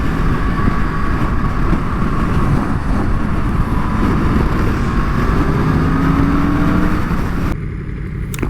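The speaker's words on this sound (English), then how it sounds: "Rari 458. I think that's a naturally aspirated V8." Ferrari 458 with a naturally aspirated V8 passing by at loud, steady volume, its broad engine roar holding throughout and dropping away briefly near the end.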